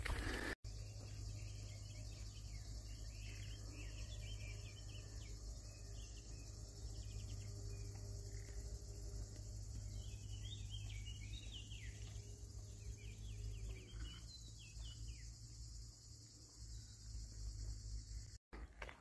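Steady outdoor ambience of insects buzzing and birds chirping in scattered bursts along the GR65 hiking trail in France, faint and continuous over a low hum, with no voices.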